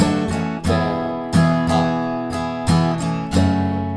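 An acoustic guitar strums the chords of a song in a down, down, up pattern, with several bright, evenly spaced strokes ringing close and clear, played alone with no voices.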